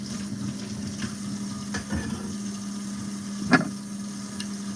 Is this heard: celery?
yes